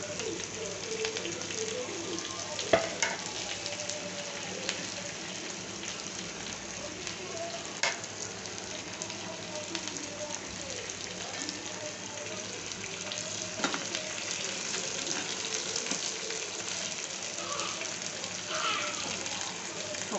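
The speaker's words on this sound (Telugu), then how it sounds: "కొద్దిగా వేగాక ఆనియన్స్ వేసుకుంటున్నా. ఎండుమిర్చి, కరివేపాకు అన్నీ వేసేసుకుందాం." Onions, dried red chilies and curry leaves crackle and sizzle in oil, a steady close hiss with occasional spatula clinks, while a voice talks intermittently over it.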